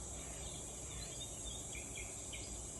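Cicadas in the sunny summer countryside of southern France keep up a continuous high, buzzing drone, faint and even throughout, with a few thin bird chirps above it.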